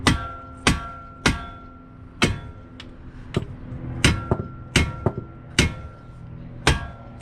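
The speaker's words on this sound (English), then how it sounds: "Get the hammer." Hammer blows on a tie rod of a 2015-2021 Nissan Maxima or Altima, about a dozen sharp metallic strikes at an uneven rhythm, close and loud, each ringing briefly.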